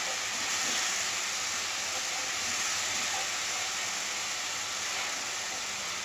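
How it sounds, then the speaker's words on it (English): Tomatoes stir frying in hot oil with masala for a home-made chicken liver dish make a steady, loud, unbroken sizzling hiss that holds without pause. "So we have put some tomatoes and we will stir fry them."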